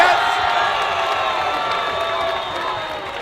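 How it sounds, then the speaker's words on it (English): A crowd cheers and whoops at a gold-medal match of the Canadian National Dodgeball Championships, a loud, sustained roar of many voices that fades slightly toward the end. "Crowd enjoyed that one quite a bit."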